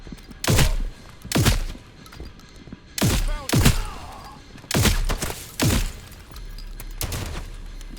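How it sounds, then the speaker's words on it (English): Shotgun blasts in the game Transience: about eight loud, separate booms spaced irregularly, some in close pairs, each with a short decaying tail and faint background noise between shots. "I think that's another shotgun"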